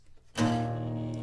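A single low acoustic guitar strum across the bottom three strings rings out after a brief quiet moment, the chord sustaining and slowly fading.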